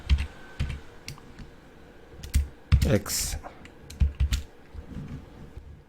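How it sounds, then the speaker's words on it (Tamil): Short irregular clicks of typing on a computer keyboard sound close by, with a few louder key presses, while someone speaks intermittently over them. "அப்போ நீங்கள் கீபோர்ட்லேருந்து ஒரு மதிப்பை கொடுக்க முடியும்"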